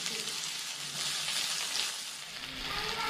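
Onion with a pinch of salt sautéing in oil in a pan: a close, steady sizzle and crackle with no breaks, running alone at moderate volume.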